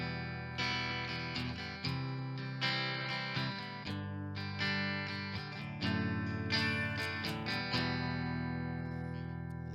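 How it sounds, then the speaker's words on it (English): Clean-toned Fender FMT Telecaster, bridge pickup in single-coil mode, plays sustained chords and picked notes in a rhythmic pattern, bright and close, with repeated strums roughly every second and no talking. "we're now in single coil mode, and this is where this guitar actually really shines for clean tones"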